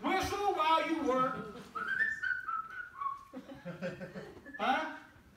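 A church congregation whistles a short, cheerful tune, the pitched notes rising and falling clearly, mixed with chuckles and laughter from the crowd.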